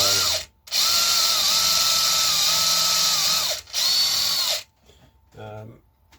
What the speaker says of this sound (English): I've got to keep the drill in the middle of this bit of wood